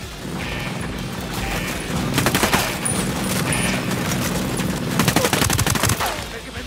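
Sustained video-game gunfire in a Black Ops firefight, dense bursts of automatic shots crackling continuously with heavier volleys near the end, loud and close.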